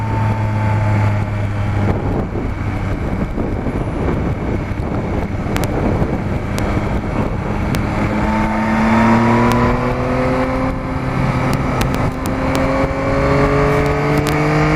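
Motorcycle with a quickshifter riding at speed, engine rising through gears with smooth shifts and steady revving under heavy wind rush at the microphone.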